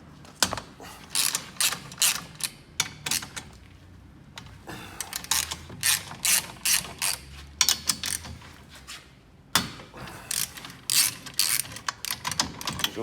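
Ratcheting clicks from a 19 mm socket or spanner cracking off actuator bolts, bursts of fast close mechanical ratchet strokes repeating in irregular groups, loud and unaccompanied by talk.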